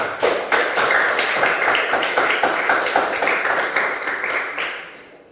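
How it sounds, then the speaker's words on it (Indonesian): A classroom group applauds with a steady patter of many hands clapping, fairly close and loud for about five seconds, then fading out at the end. "beri tepuk tangan"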